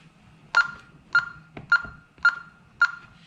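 A Honeywell Vista 20P alarm keypad gives five short, evenly spaced electronic beeps as a code is entered, clear and close against a quiet room.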